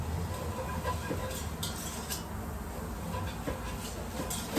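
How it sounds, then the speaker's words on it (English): A whisk scrapes and clinks steadily against a pan of thick croqueta mixture over low heat, a continuous close stirring texture with faint metallic taps throughout. "keep moving it, keep whisking. on a low heat as well"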